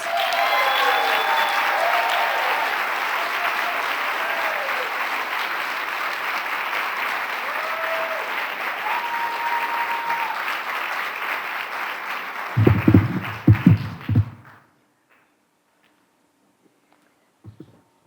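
A large audience applauding Sarah Jones as she is introduced, long sustained clapping with a few whoops, ending in a couple of close bumps before silence.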